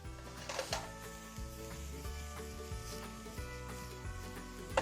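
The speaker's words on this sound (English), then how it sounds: "You can hear my mushrooms going over here." Mushrooms sizzling in a frying pan, a soft steady hiss and crackle, faint and continuous, with background music running underneath.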